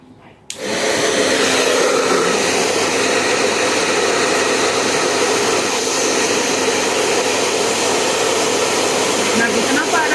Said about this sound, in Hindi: अब इसको ना हेयर ड्रायर से सुखाओ